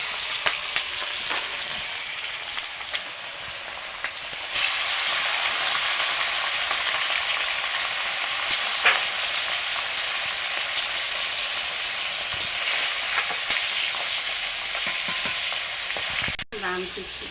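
Meat fries in a pan with a steady, dense sizzle, close and loud, while a spoon stirs it now and then with scraping and clatter in a home kitchen.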